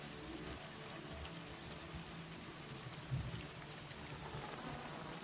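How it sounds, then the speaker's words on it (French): Rain sound effect for a tabletop roleplaying game, a steady soft patter of raindrops on a surface with a few louder splashes, low and continuous with no talking. "Il pleut."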